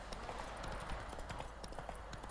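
Horse hooves clip-clop at a steady gallop in The Witcher 3, a dense rapid rhythm of thuds close up with faint background sound and no talk.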